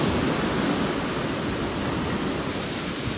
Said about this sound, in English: see if I can manage to not get knocked over by these waves